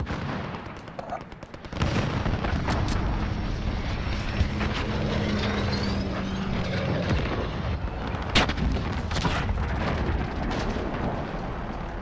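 An enemy cruise missile strike in the Modern Warfare video game lands with a sudden loud blast, followed by a sustained roaring rumble, jet noise and scattered sharp booms and gunfire cracks. A voice talks briefly.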